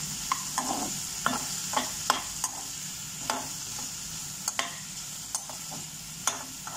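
Tomatoes with salt cooking in a pan for kadai paneer, a soft steady sizzle broken by frequent sharp clicks of a spoon stirring and scraping against the pan.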